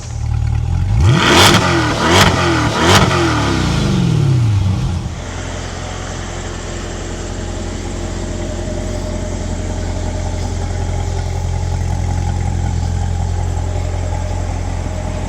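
A Chevrolet C8 Corvette revs loudly three times nearby, then settles into a steady engine drone as it pulls away and drives off, with no voices.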